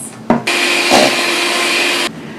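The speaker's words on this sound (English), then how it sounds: "mixing it at high speed for about 5 more minutes" Electric mixer whipping mousse mixture at high speed: a loud, steady whir that switches on abruptly, holds for about a second and a half, then cuts off, with no talking.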